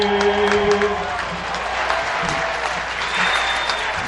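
Crowd applause and cheering fill a ballpark at a night high school championship baseball game, Providence vs St. Rita, right after the national anthem, a steady dense wash of clapping with scattered shouts throughout.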